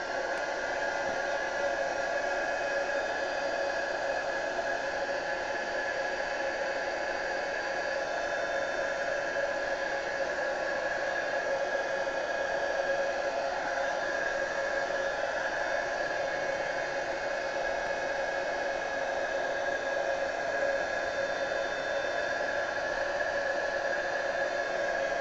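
A hair dryer blows steadily over Derwent Artbar colour on paper, a continuous airy whoosh with a tonal hum, held at even loudness for the whole stretch.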